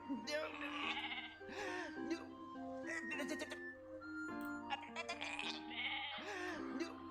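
Sheep bleat repeatedly in a video game, a flock giving overlapping, wavering cries one after another, close and loud, over a steady low background hum.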